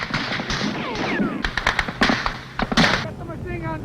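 Vietnam War gunfire coming from a house: a rapid scatter of sharp cracks and bursts at a moderate distance, mixed with shouting voices.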